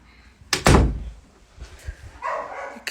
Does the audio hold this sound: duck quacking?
no